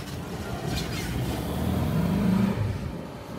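A Volkswagen art bus in Santa Barbara, rusty and shedding rust pieces, drives down the road with a steady low engine rumble that swells briefly as it passes, with no talk over it.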